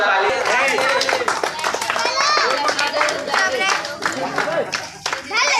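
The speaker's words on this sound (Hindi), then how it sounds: "और जोरदार ताली।" Children and adults clap together as a crowd at an outdoor Matki Phod pot-breaking event, with dense, uneven claps running throughout and lively chatter and a nearby voice mixed in.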